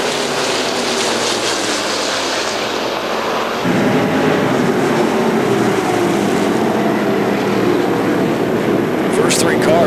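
IMCA stock cars racing at RPM Speedway during the Fall Nationals feature, a steady loud engine roar from the pack filling the air continuously, with a commentator talking over it.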